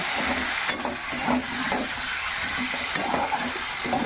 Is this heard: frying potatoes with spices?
yes